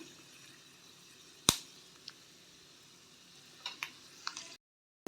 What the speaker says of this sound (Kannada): ಕಡಲೆಬೇಳೆ ಬೇಳೆ ಹಾಗೂ ಕಡಲೆ ಬೀಜ ಎಲ್ಲ ಕೆಂಪಾಗಬೇಕು ಅದಕ್ಕೆ ತನಕ ಫ್ರೈ ಮಾಡ್ಕೋಬೇಕು ಮೀಡಿಯಮ್ ಫ್ಲೇಮಲ್ಲಿ